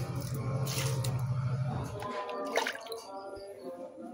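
Liquid organic fertilizer made from mango poured onto potted plants on a home terrace, a continuous splashing, trickling stream that softens and breaks into drips toward the end.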